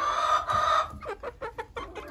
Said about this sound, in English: Buffs are like the most friendly chicken.